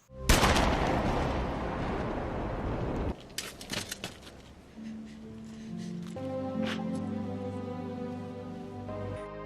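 A gunshot in a movie about a human trafficking gang: a sudden loud blast opens into a rough, noisy rumble lasting a few seconds, then sharp cracks give way to a rising dramatic music score.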